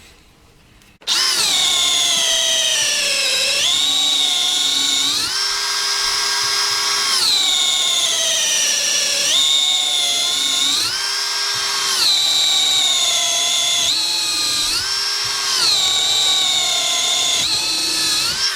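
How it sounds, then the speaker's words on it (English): DeWalt DCD777 cordless drill boring with a 12 mm auger bit, its whining motor loud and close, running in steady bursts that bog down and pick up again as the bit bites, with brief dips between passes. "that's a 12 mil auger"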